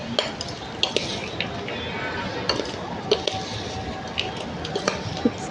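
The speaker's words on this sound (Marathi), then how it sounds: "आता आपल्याला हे सगळं छान मिक्स करायचं" Grated raw mango and jaggery being mixed in a bowl for sweet mango pickle, with repeated close clinks and taps of a spoon against the vessel over a soft, continuous squelching stir.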